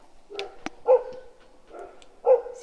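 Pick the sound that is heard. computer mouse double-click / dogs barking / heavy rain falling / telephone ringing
dogs barking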